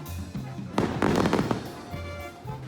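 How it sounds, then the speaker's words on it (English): Fireworks going off at nightfall in Oaxaca, Mexico, a sudden run of loud, crackling bangs lasting under a second, set against ongoing music and crowd noise. "And at nightfall, we were entertained with fireworks."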